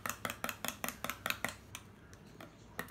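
A spoon clinks rhythmically against a bowl while ketchup and apple cider vinegar are stirred together for a meatloaf glaze, about a dozen quick close taps, then slower scattered clinks.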